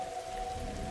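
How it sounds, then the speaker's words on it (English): A stormy night in the Darkside Detective game brings a soft, steady wash of rain with a low rumble beneath it, faint and constant, with no one talking. "I'd rather not go back out in the storm."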